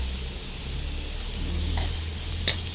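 Bamboo worms stir-roasted in a hot pan give a steady, close sizzle and crackle, with one brief clink of the utensil near the end.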